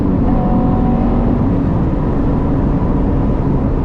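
Third-generation Honda Prelude driving, a loud, steady engine and road drone with a low rumbling hum and faint whirring tones, continuous and without speech.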